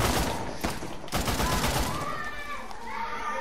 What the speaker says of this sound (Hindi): धनाधन गोली पेल दी इनने तुम्हें